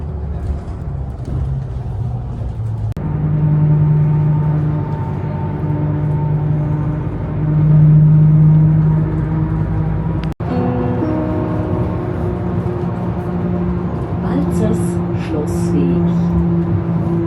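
A bus ride toward Liechtenstein: a steady engine hum and road rumble from inside the vehicle, the motor pitch rising and falling as it pulls away and slows between stops, with a sharp knock partway through.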